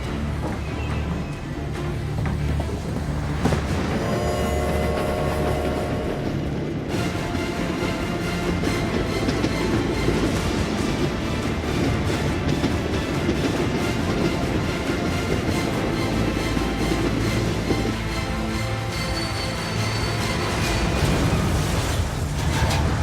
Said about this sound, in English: The train departs Cleveland at